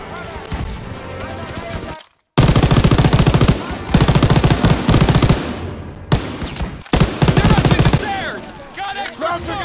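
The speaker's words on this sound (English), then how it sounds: "Suppressive fire! Keep firing! That gun is still alive!" Machine gun fire in the Call of Duty WWII video game, with loud, dense bursts of rapid gunfire broken by short pauses, and soldiers shouting over the shooting.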